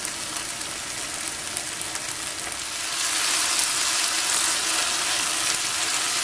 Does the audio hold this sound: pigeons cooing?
no